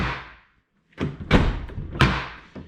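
A 2007 Chevy Silverado 1500 truck door opening against a damaged fender, heard as a scrape followed by two or three heavy metallic thunks and bangs, close and loud.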